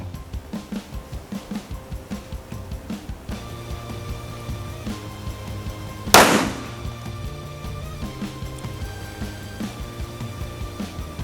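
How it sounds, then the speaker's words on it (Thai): A Rock Island Armory TAC Ultra FS HC 1911 pistol in 9 mm fires one sharp, loud gunshot at a shooting range, a sudden crack standing out over steady rhythmic background clatter and hum. "ยิง นัดหนึ่งแล้วก็พักปืนนะครับ เพื่อความแม่นยำ"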